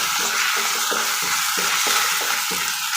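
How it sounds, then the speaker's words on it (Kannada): Onion with ginger garlic paste fries in oil for a cauliflower curry, a dense continuous sizzle broken by rhythmic scraping strokes of a spatula against the pan, roughly twice a second, close and fairly loud with no talking. "ಈಗ ಇದಕ್ಕೆ ನಾನು ಶುಂಠಿ ಬೆಳ್ಳುಳ್ಳಿ ಪೇಸ್ಟ್ ಹಾಕ್ತಾ ಇದ್ದೀನಿ. ಸ್ವಲ್ಪ ಹಸಿ ವಾಸನೆ ಹೋಗೋವರೆಗೂ 1-2 ನಿಮಿಷ ಫ್ರೈ ಮಾಡ್ಕೊಳ್ಳೋಣ"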